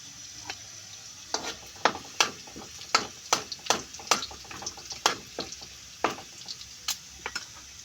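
Garlic frying in a pan while being stirred, with crackly sizzling and irregular spatula scrapes and taps, fairly close, and no talking.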